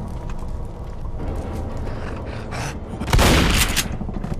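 Shotgun blasts in the zombie shooter video game Left 4 Dead, amid continuous gunfire and gritty game noise, with one especially loud, close blast near the end.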